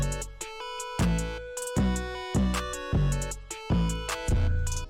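A full hyperpop and glitchcore drum beat with claps and snare layered over heavy bass and bright synth tones, pulsing in a steady loud rhythm with punchy repeating hits and no voices.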